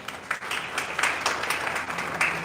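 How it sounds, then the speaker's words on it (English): A round of applause for a student giving an answer at an international conference, a soft, fairly distant patter of many hands with scattered sharper claps, fading slightly toward the end. "give her a round of applause"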